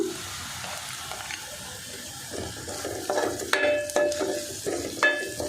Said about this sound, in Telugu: ఉల్లిపాయలు అయితే వేగిపోయినాయండి ఇప్పుడు అల్లం పేస్ట్ అయితే వేస్తున్నా ఇది కొంచెం ఫ్రై అవ్వనివ్వాలి